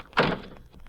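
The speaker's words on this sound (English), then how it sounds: "I'll open the back door." A car's back door opens in a 1951 radio drama, a single short thunk of the latch and door, close and brief.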